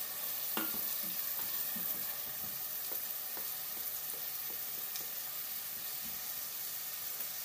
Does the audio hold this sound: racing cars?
no